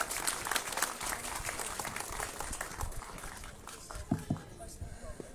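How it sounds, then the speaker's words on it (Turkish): An audience applauds at the opening of a sports facility, steady mixed clapping heard from a distance at low volume, with some crowd noise. "sahneye davet ediyorum alkışlarınızla"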